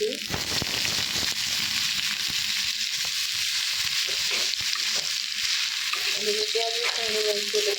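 Helencha greens hit hot oil in a pan and fry with a loud, continuous sizzle, broken by clattering stirs and scrapes of a utensil, with a faint voice in the background near the end.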